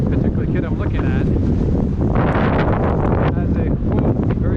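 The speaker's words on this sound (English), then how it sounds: "whoa, very windy today" Strong outdoor wind buffets the microphone, producing a loud continuous roaring rumble with gusty surges that almost drown out a voice.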